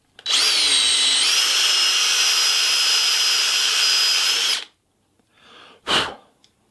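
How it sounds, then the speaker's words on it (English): A power-driven brush cleans out the hosel of a golf club in a repair shop, giving a loud, steady high-pitched whine for about four seconds that cuts off abruptly, followed by a couple of short scuffs and a breathy rustle. "Again, we use the brush."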